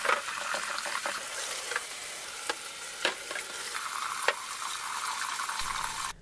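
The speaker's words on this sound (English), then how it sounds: "Now give the cabbage a good wash to get rid of all the salt. I rinse it about 3 times over." Salted cabbage for kimchi is rinsed in water, making a steady rushing, splashing wash with scattered sharp knocks and clatters.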